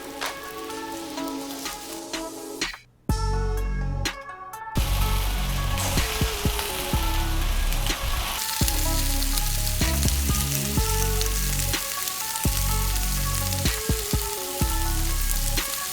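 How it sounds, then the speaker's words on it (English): Meatballs searing in olive oil in a skillet, a loud continuous sizzle and crackle that goes briefly quiet near the start, then resumes strongly and holds steady. "I'm gonna put a little bit of olive oil in there, and we're just gonna sear off the meatballs."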